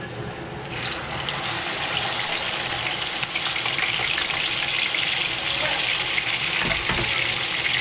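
Pork chops frying in a pan for arroz con habichuelas y chuleta, a steady, loud broadband sizzle filling the whole stretch without a break, close up and with no talking.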